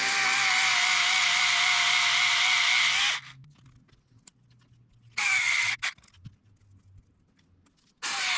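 A power driver runs a screw into plastic, a high whirring buzz lasting about three seconds, then a shorter burst and a final brief one, with quiet handling noises between.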